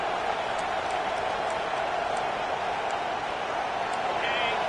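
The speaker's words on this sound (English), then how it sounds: "This crowd busting the decibel meter and trying to will a 4th down stop" Stadium crowd at an Ole Miss football game roaring loudly and steadily on a fourth down play, a dense continuous wall of noise with no letup.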